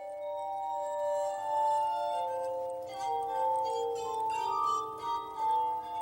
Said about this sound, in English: The harmonica consisted of 25 glass bowls linked together with a spindle, rotated with a treadle, and played with fingertips.